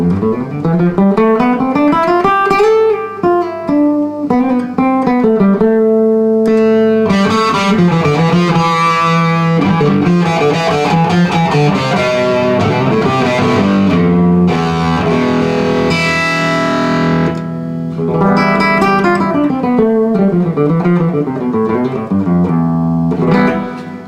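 Electric guitar through a distortion pedal plays a loud, gritty melodic line in the Phrygian mode with sustained notes and bends, alone without any voice.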